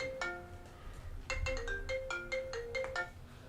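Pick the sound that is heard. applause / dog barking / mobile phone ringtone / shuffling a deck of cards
mobile phone ringtone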